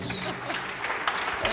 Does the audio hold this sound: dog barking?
no